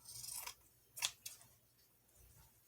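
Scissors trim material for a handmade botanical journal cover, making a few quiet, close snips: one longer cut, then two quick crisp snips and a softer one, with no talking.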